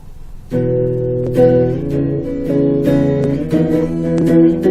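Chords on an electric guitar ring out one after another, each sustained briefly before the next change, played alone and close.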